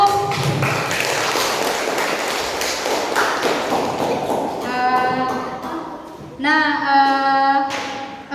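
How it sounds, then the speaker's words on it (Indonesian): Group of students clapping for a presenting group in a classroom, a dense patter of hands that fades after a few seconds, followed by voices speaking and calling out. "aplaus dulu untuk kelompok 1"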